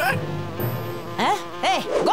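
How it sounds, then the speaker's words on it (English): A cartoon bumblebee buzzes with a swooping, rising and falling whine in repeated passes, close and fairly loud against a light music or effects bed. "What was that, the bumblebee? It's that busy bee again!"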